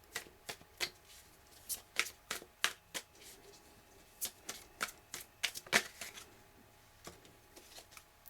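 Tarot cards are shuffled by hand in a string of quick, crisp riffles and slaps, irregular bursts close to the listener with quiet gaps between them, and no voices.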